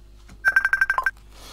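A mobile phone rings indoors: a short burst of about eight quick, evenly spaced electronic beeps over roughly two-thirds of a second, clear and fairly close in an otherwise quiet room.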